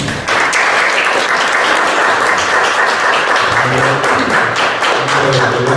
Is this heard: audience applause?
yes